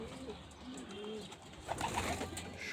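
Pigeons, among them young Damascene birds, coo in soft low rolling calls over a steady noisy background, with a few fainter chirps and rustles later on.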